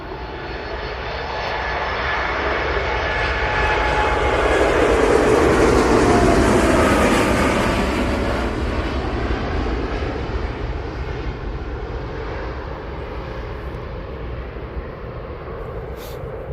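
An airliner taking off from Manchester Airport, a loud sustained jet engine roar that swells toward the middle and slowly fades as it climbs away, with no talking.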